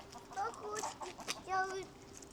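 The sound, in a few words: hens and roosters clucking in a Polish village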